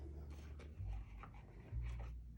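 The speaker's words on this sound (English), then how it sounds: "My creepy dog just came around the corner." A dog pants softly nearby in quick, rhythmic breaths, faint and close in a quiet indoor room, with low thumps underneath.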